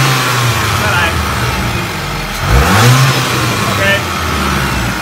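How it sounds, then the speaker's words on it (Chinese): A car engine is started and the throttle pressed, giving one rising rev that swells and falls back to idle, loud and close, with someone speaking briefly over it. "阿翔帮我发动引擎一下"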